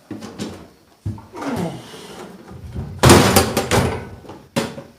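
A drawer on the top box of a tool box is opened with a few sliding clunks and metallic thuds, loud and close, in separate bursts over a few seconds.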